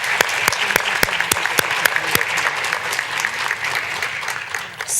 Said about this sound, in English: give one more round of applause for Meta Brown